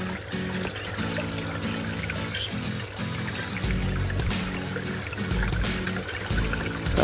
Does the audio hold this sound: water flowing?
yes